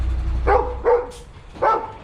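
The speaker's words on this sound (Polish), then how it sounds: "Weź zamknij tego psa." A dog on a farm barks three times in quick succession, moderately close, over a low background rumble.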